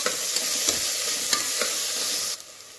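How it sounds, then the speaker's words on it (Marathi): Onions frying in a pan until reddish, a close, steady sizzle with soft clicks of stirring that drops away suddenly near the end. "आता हे छान लालसर होईपर्यंत आपल्याला कांदे भाजून घ्यायचे, तळून घ्यायचे।"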